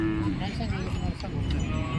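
A cow lows amid the crowd noise of a busy cattle market, with people talking nearby throughout the short stretch.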